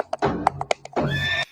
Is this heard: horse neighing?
yes